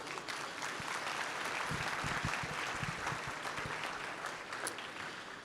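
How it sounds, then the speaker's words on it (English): Guests at a college's 50th anniversary celebration applaud themselves, a steady, fairly soft and distant wash of clapping with a few sharper claps standing out. "I want to give yourselves a round of applause for being here"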